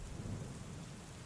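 Thunder rumbles low and continuous beneath steady rain in a fantasy audio drama scene set in an inner city, a dense wet wash with no voices heard.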